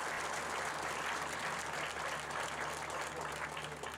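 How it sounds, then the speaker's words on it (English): An audience at a 2018 stadium renovation event gives a steady round of applause, a continuous wash of clapping from a crowd at some distance, heard alone without speech. "Give us a round of applause."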